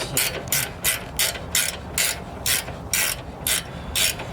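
A hand ratchet clicks in about ten quick, evenly spaced bursts, close and alone, while a 17 mm bolt is driven back into the rear coilover mount of a Nissan 370Z Nismo.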